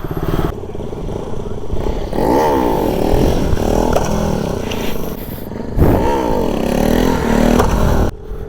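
Honda NS 160 motorcycle engine revving hard as the throttle is blipped repeatedly during wheelie practice, loud and close, with rising and falling surges and faint talk underneath.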